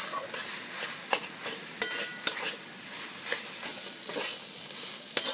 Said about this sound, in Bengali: দিয়ে ভালো করে এটাকে মিশিয়ে দেবো